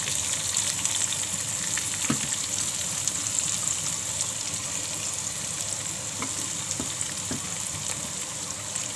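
Chopped onion fries in a pan while a vegetable dish is cooked, a steady, dense sizzle throughout with a few faint clicks of stirring.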